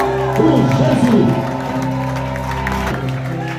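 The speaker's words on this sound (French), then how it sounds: "Je vais une acclamation pour Jésus." Congregation at a church service bursting into applause and cheering, a brief loud swell of mixed voices and clapping over a sustained musical drone, fading back into steady crowd noise.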